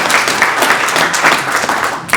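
A crowd at a public launch event claps in a brief, loud burst of mixed hand-claps, busy and uneven, with no speech over it.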